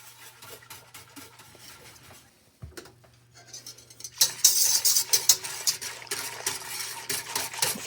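Grape juice being stirred in a pot for jelly: a spoon scrapes and clinks against the pot, quiet at first, then busier, louder, close-up clatter through the second half, with no talking.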